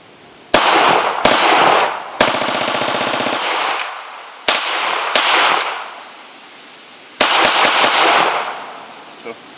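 A CZ Scorpion Evo3 bump-fired with a lightweight trigger spring kit lets off several loud, close bursts of rapid gunfire, the longest lasting over a second, separated by brief pauses and single shots.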